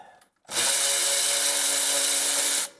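A powered ratchet whirs in one loud, steady burst of about two seconds while working on the brake caliper of a Mercedes W163, close up with no talk.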